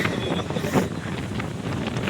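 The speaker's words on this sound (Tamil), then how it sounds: "சரியான காத்து." Strong wind buffeting a mountainside on a pilgrimage climb at Parvathamalai, a loud, steady roar with gusty surges that batter the microphone throughout, with no voices.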